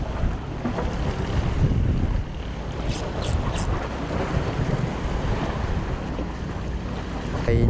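Strong wind whips across open sea aboard a squid-fishing boat off Ko Si Chang, a steady roaring rush that buffets the microphone, mixed with wave and hull noise and a few brief high chirps.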